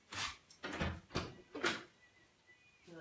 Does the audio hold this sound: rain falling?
no